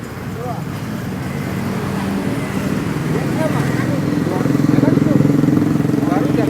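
Motorcycle engine on a busy street in Java, a steady close drone that grows slightly louder amid traffic noise, with people talking over it.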